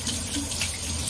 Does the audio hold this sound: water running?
yes